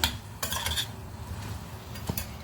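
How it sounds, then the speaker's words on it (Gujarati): A vegetable curry seasoned with turmeric and salt is mixed in a pan, giving several sharp metallic scrapes and clinks of a spoon against the pan in short bursts, close and moderately loud. "હવે નાખી દઈએ નિમક સ્વાદ અનુસાર અને મિક્સ કરી લઈએ"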